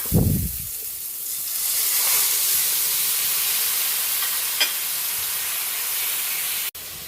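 Pork hits a hot pan with a sharp burst of sizzle, then settles into a loud, steady hiss of frying with a faint clink partway through, no talking.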